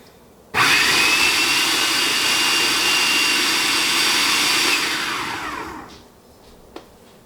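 An electric mixer beats cheesecake batter with eggs for a peach cobbler cheesecake: a loud, steady motor whir starts abruptly, holds for about five seconds, then winds down, followed by a single faint knock.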